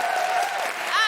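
Short burst of audience applause at a live comedy podcast recording, dense clapping from a crowd for the guest co-host, steady and fairly loud across the whole moment.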